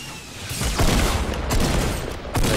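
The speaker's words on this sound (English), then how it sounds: "They're like shooting at me." Gunfire in a Fortnite Battle Royale match, dense bursts of rapid shots with booming hits, fairly loud and continuous for a few seconds with no talking.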